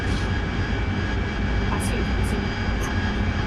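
A Chinook helicopter in a video game, its engine and rotors a loud, steady, dense roar with a few brief high-pitched blips over the top.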